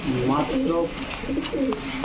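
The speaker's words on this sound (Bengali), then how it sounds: "হোয়াইট টপ বোখারা বিশাল সাইজের কবুতর" A pair of large White Top Bokhara pigeons cooing at a pigeon farm, soft repeated coos in short phrases, close by, with voices talking over and between them.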